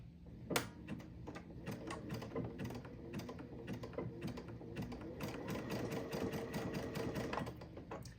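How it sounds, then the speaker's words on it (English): A sewing machine stitching fabric held in an embroidery hoop runs steadily at close range, a fast, even mechanical chatter of needle strokes with small clicks, no talking over it. "I'll lower my presser foot, position it so that I'm starting on the fabric, take a few stitches"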